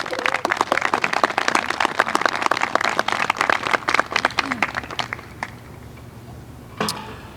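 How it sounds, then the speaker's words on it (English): Applause for a family at a high school military ceremony: a hall full of people claps steadily for about five seconds, then the clapping thins and fades, leaving a quiet room with one faint late clap. "Please give the Willems family a round of applause."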